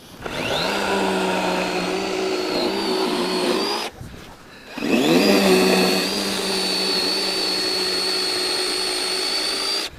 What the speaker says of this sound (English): She had no idea that you can cut ice, I think, so easy with a chainsaw.